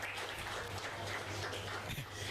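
Faint audience applause: a soft, continuous patter of many hands clapping, heard from a distance and briefly sustained.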